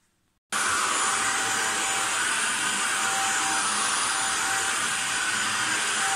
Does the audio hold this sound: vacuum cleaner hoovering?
yes